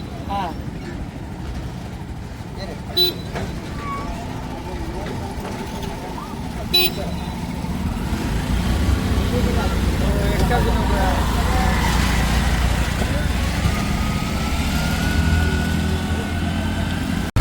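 Auto rickshaw ride through city traffic driven by a woman, with a continuous engine rumble that swells in the second half, scattered horn toots and passing vehicles, under people talking.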